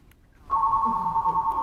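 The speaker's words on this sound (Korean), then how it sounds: "상담원이 전화가 왔고요." A steady electronic telephone ring tone comes through on a call center line as a call arrives for the agent, sounding as one loud, continuous tone after a short quiet start.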